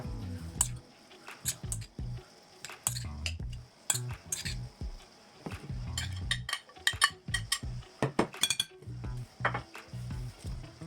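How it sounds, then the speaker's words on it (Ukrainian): Clinking and scraping of a spoon against a bowl as food is tipped and scooped in, irregular knocks and rattles up close, no voices. "Пересипаю в більшу миску."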